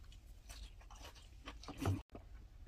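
Raw fish mixed with vegetables being chewed up close: a few soft, wet crunching bites over about two seconds, quiet and ending abruptly.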